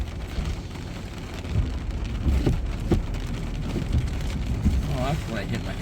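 Steady heavy rain drums on a vehicle roof and windows at a job site, a dense close patter throughout, with brief voices and a murmur underneath.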